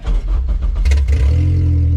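A K-swapped Honda Civic engine turns over and catches, settling into a loud, steady low rumble up close.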